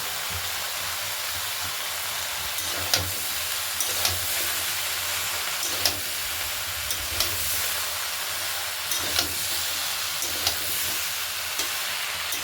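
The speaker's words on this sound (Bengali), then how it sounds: "এবার কেটে রাখা কুমড়োগুলোকেও দিয়ে দেবো" Cut pumpkin pieces stir-fried in a pan with mixed vegetables for a Bengali catla fish head chorchori: a steady close sizzle and hiss with regular soft clicks and scrapes from stirring, no talking.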